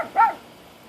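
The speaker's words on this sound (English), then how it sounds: "Trixie, the killer dog. What's she barking at, baby?" A single short dog bark sounds once, fairly close, followed by quiet room ambience.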